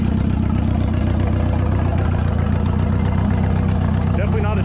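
A Mazda Miata engine idling loud through an open downpipe, a steady low rumbling drone that holds throughout, with a voice speaking briefly over it near the end.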